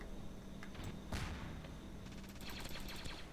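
Rapid gunfire in the video game Ravenfield, bursts of automatic shots crackling over a steady background battle din, with a louder nearby blast in the middle and scattered distant shooting toward the end.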